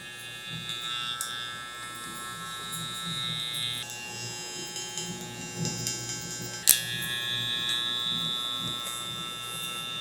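Electric hair clippers buzz steadily while cutting a blowout taper on curly hair. The drone is close and constant and shifts slightly in pitch, and one sharp click is heard near the end.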